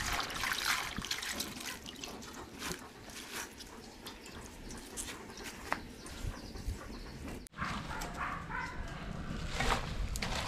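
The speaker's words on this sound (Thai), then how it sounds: "สมผักกาดครับล้างให้สะอาดก่อนเนาะครับ" Running tap water splashes and trickles steadily while mustard greens are rinsed clean for Hmong-style pickled greens, a continuous close wash of water with small drips and handling noises throughout.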